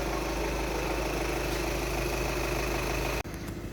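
A 2-litre diesel Skoda car engine runs just after starting, a loud steady close idle with constant low rumble and vibration that cuts off abruptly near the end before resuming.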